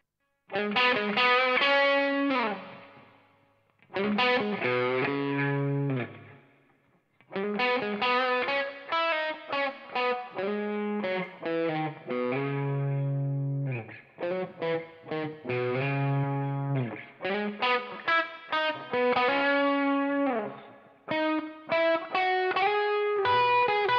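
Distorted electric guitar playing boosted chords and melodic phrases through a Waves PRS Supermodel virtual amp, loud and bright with short pauses between riffs.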